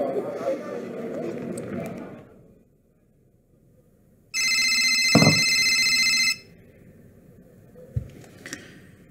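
A telephone rings loudly in one steady burst lasting about two seconds, coming after a stretch of talk and followed by quieter voices.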